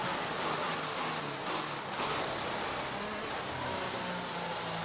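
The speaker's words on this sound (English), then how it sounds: "I'm gaining on the cars ahead, but I'm not driving that well." A Formula 1 race car engine in the F1 2021 video game holds a steady, high-pitched whine with small changes in pitch, heard alone and fairly quiet.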